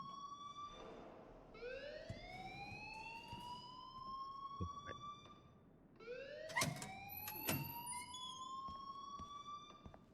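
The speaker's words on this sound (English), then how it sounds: "please turn off that alarm since that's your job" Rising, wailing alarm siren from the video game Life is Strange, sounding loud and steady in repeated upward sweeps with a few sharp clicks and knocks partway through.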